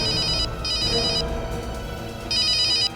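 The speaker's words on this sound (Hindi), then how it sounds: "घंटी बज रही है।" A telephone bell rings in two electronic trilling bursts, clear and fairly close, separated by a short pause.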